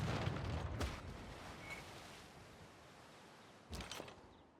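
A cannon fires at spearmen in the strategy game Civilization VI. A loud, close boom opens with a long rumbling decay, and a second, softer blast follows near the end, with no talking.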